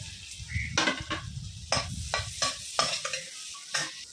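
Onions fry in oil and butter in a pan for a broccoli salad, with a soft sizzle broken by sharp, irregular scrapes and clacks of a spatula stirring, close and moderately loud.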